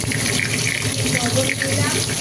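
Potatoes and peas frying in a pan for a potato curry give a steady, dense sizzle that holds evenly throughout at close range, with no voices.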